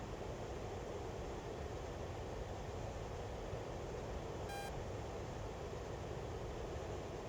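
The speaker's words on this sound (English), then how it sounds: "Beep, beep." A brief electronic warning beep sounds once in the DCS World flight simulator, a short tone heard over a steady, loud cockpit engine drone.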